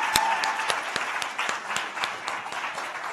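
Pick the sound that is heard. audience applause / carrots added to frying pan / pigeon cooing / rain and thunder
audience applause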